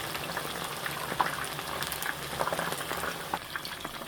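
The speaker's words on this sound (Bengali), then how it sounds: "এই যে এরকম লো হিটে ভাজতে হবে, বেশি জোরে হিট দিলে আবার পুড়ে যাবে ভিতরে কাঁচা থাকলে।" Chicken and vegetable pakoras fry in oil on low heat, a steady close bubbling sizzle with faint pops throughout.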